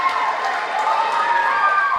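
A crowd at a Delaware pro wrestling event roars and cheers after a senton flip off the apron, a sustained, loud wash of voices close by.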